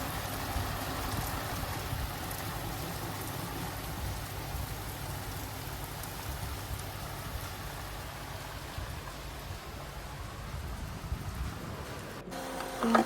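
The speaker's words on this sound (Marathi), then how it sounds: "या छान पावसाच्या बॅकग्राऊंड आवाजात मी एक DIY करण्यासाठी बसते." Heavy rain pours outside on a cloudy day, a steady close hiss of drops on surfaces that holds evenly throughout with no voices.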